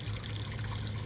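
A small garden pond waterfall trickles softly and continuously, a faint, even splashing of water with distant low background hum and no talking.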